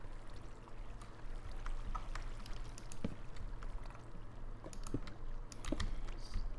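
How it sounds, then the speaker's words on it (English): Flowing water in Minecraft makes a quiet, continuous trickling rush that stays steady throughout, with faint clicks scattered over it and no voices. "I think that's just the water."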